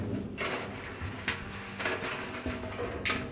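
Drum of an Amana dryer being pulled out during repair, a series of scraping, sliding rubs and hollow metallic thumps at close range, several uneven strokes over a few seconds.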